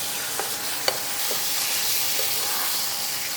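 Tomatoes and mutton masala fry in a pan for mutton ghugni, a continuous close sizzle and hiss with a few soft stirring knocks scattered through.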